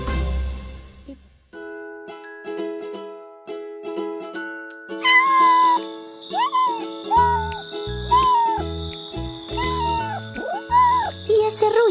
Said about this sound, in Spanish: Parece un gato.